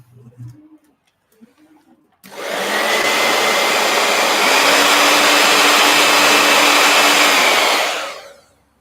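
A heat gun blowing hot air runs as a steady, loud, close whoosh for about six seconds before cutting off, after a few soft sounds at the start.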